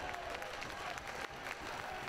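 A rugby crowd at Brickfields applauds and cheers after Plymouth Albion scores a try against London Scottish, a dense burst of clapping filling the short moment.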